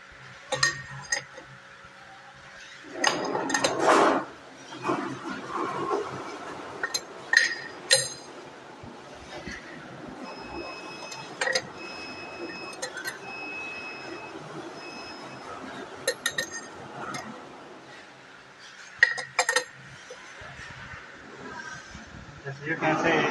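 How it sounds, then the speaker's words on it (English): Plastic cups are set into the swing rotor of a large-capacity tabletop low-speed centrifuge, giving a few sharp knocks and clinks at irregular intervals amid quiet handling noise. "let us put the cup into the rotor"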